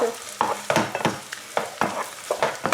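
Egg frying in a pan for pad thai gives a continuous close sizzle, with regular spatula strokes scraping and stirring about every third of a second, loud and with no voices.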